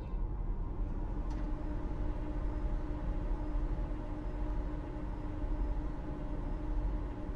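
A train in the ALICE VR video game gives a steady low rumble with rail-car clatter, a continuous droning ride heard close and alone.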